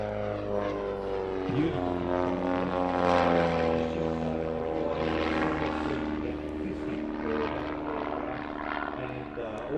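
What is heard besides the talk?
propeller aerobatic aircraft flying low at airshow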